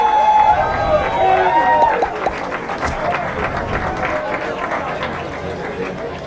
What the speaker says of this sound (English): Let's give a round of applause for Danny Boy